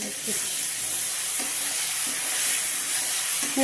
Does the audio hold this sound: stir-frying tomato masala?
yes